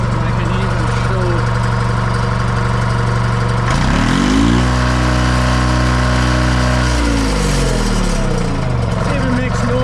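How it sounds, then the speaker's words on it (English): A John Deere 440 with a 2-53 two-stroke diesel engine runs loud and close, its deep steady drone shifting pitch midway as the revs change. "it even makes noise like a 2-stroke's supposed to."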